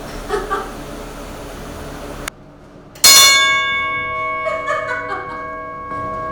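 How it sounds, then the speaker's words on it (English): An old railroad roundhouse bell gives one loud, clear strike that rings on with a long, slowly fading metallic tone over a quiet background. "The bell would warn railroad employees that a train was entering the roundhouse."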